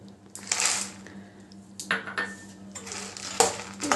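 Two cups of roasted makhana are tipped into a pan with sesame seeds and stirred for a sweet, giving light rattling, scraping and clinking of the kernels against the pan in short uneven bursts.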